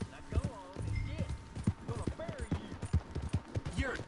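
Horse hooves clip-clop in the video game Red Dead Redemption Online, a steady trotting rhythm under near-continuous talk from a player.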